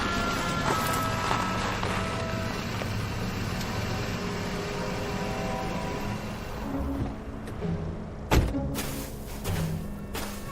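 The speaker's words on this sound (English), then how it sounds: "Here comes Farwell's car." A car approaches and arrives in a radio drama, with a steady motor rumble and road noise throughout, then a few sharp knocks and clunks near the end like the car stopping and a door moving.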